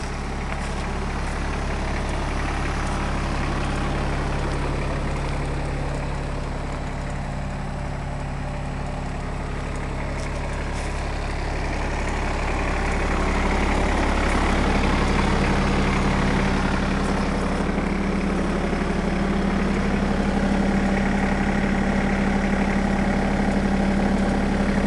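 A New Holland TC33D compact tractor idles close by, a steady low diesel thrum with a constant hum that swells slightly in the later half, with no speech over it.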